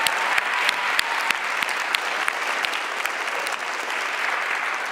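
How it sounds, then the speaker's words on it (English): An audience applauds the winning solver teams at an MIT event, a full, steady round of clapping with sharp individual claps standing out, sustained for several seconds with no speech. "So let's give the winners a round of applause"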